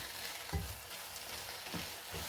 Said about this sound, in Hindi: सभी चीज़ों को यहाँ पर अच्छे से करेंगे मिक्स।